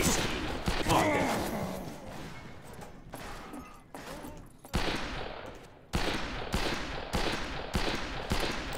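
Gunshots ring out in Fistful of Frags as repeated loud reports in a chaotic Western firefight. The shots arrive irregularly at first, then as a steady series of cracks toward the end, with some voices mixed in.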